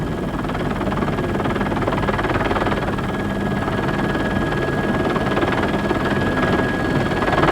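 A rally motorcycle engine runs steadily at the finish of the last big special stage of a rally, a continuous close, loud mechanical drone holding an even pitch with a faint whine throughout, with no talk.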